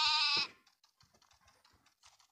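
Sheep bleat in a video game where a player has been turned into a sheep, one loud short bleat at the start followed by faint clicks and quiet background noise.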